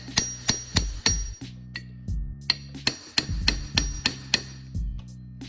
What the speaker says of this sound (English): just kind of tap on the sides a bit